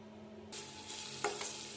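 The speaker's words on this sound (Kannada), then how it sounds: "ಒಂದು ಬಾಣಲೆಗೆ ಎಣ್ಣೆಯನ್ನು ಹಾಕಿ ಗೋಬಿಯನ್ನು ಫ್ರೈ ಮಾಡ್ಕೊಳ್ತಾ ಇದ್ದೇನೆ." Spiced gobi (cauliflower) pieces go into hot oil in a pan and sizzle suddenly, followed by a soft stir, heard up close but fairly quietly.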